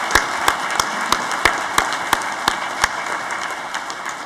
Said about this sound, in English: Perhaps one more round of applause.